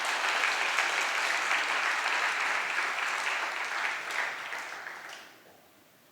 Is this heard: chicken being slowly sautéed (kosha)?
no